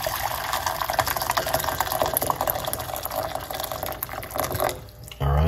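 Hot water pours steadily into a medium-sized cooking pot, a continuous splashing, bubbling flow heard close for several seconds before tailing off, with a brief thump at the end.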